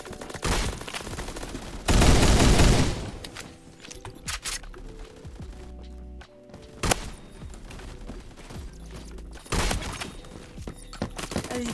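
Gunfire from a shotgun in the shooter game Phantom Forces, loud sharp blasts and bursts scattered across the clip, one long heavy volley early, with mechanical clicks between shots.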